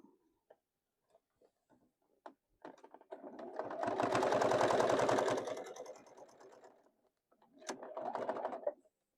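A sewing machine stitches a boxy bag up close, running in a loud continuous burst of rapid ticking, then a second shorter run after a pause, with a few faint clicks before it, and no talk.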